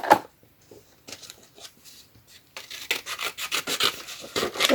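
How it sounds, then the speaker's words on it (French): Scissors snip through paper for a handmade craft card, a few quiet cuts at first, then a quick rhythmic run of close, crisp snips. "je vais prendre mon ciseau"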